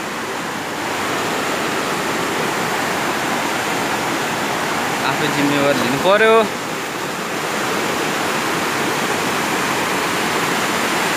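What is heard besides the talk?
flowing mountain river near Midim Bridge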